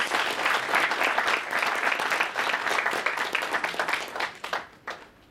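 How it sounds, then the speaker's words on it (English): An audience at a medical association conference keynote gives Professor Rogo sustained applause, dense clapping that holds strong and then thins out and fades over the last second or two. "Can you please give him another round of applause?"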